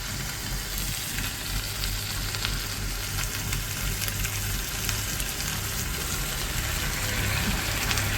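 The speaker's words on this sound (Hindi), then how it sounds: "अभी मैं काजू का पेस्ट लेके अभी इसको फ्राई करते हैं थोड़ा।" Cashew paste fries in a pan for butter chicken with a steady, dense sizzle and bubbling, continuous and close at moderate volume, with no talk over it.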